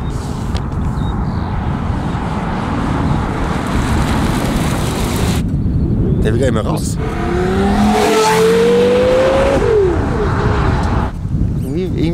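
A Porsche Carrera GT supercar roars past outdoors, a steady loud rush that builds into a rising engine howl and then fades. Someone speaks briefly over it.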